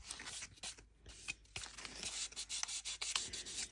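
Fine plastic part of a Revell 1968 Pontiac Firebird 400 model kit being sanded smooth by hand, a steady soft rasping of short rubbing strokes, close and quiet, with no talk.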